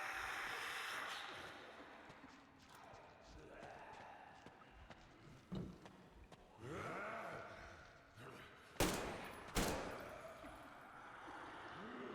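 Two sharp, loud gunshots in the video game Metro Exodus ring out close together near the end, after a stretch of game sounds with voices talking.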